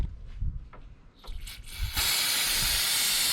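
Brake cleaner sprays onto an engine surface of a 2008 Toyota Camry during water pump work, a loud steady aerosol hiss after a few short rustles and handling knocks.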